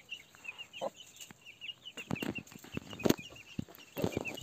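An Aseel rooster clucks inside a chicken coop in short, irregular bursts, close and moderately loud, with other fowl noises and light rustling around it.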